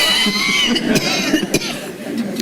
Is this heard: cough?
yes